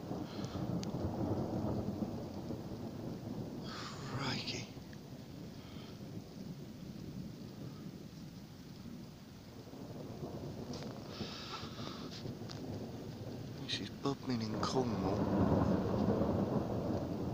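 Thunderstorm over Bodmin with rolling thunder rumbling repeatedly across the whole stretch, steady rain and some wind buffeting the microphone, no voices.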